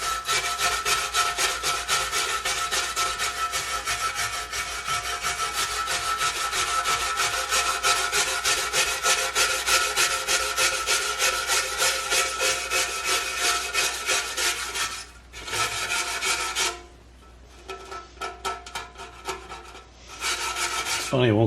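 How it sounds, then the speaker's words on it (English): A small brass brush scrubs residue off a vintage copper and brass fire extinguisher with rapid, steady rasping strokes. The strokes are close and loud, with brief pauses near the end. "So we're going to start with a little brass brush here."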